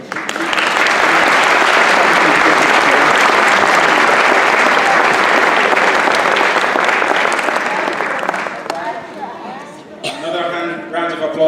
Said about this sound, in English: Another round of applause for Taloa.